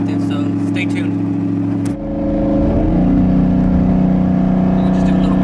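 Twin-turbo Ford F-150 drag truck prepped for the street, its engine idling rough and loud, then dipping briefly before building into a steady, strengthening rev as a gentle pull begins, close and alone.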